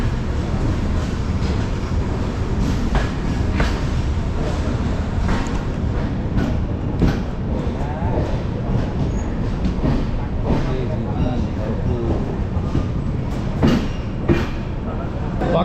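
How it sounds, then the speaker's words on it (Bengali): 12666 Kanniyakumari–Howrah Superfast Express rolling into Kharagpur Junction, a loud continuous rumble of wheels on rails with rhythmic clacks and rattles, close and unbroken, with faint voices mixed in. "ঢুকছে আমাদের train 12666 Kanyakumari Howrah superfast express ঢুকছে খড়গপুর জংশন"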